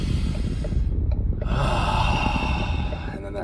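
A single slow, deep breath drawn and released during a guided meditation, close and fairly loud, with a steady airy rush and no talking over it.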